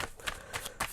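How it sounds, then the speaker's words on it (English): Quick riffling bursts of a tarot deck being shuffled, three or four rapid flutters in about a second, close and fairly quiet. "I'm gonna shuffle this deck as well."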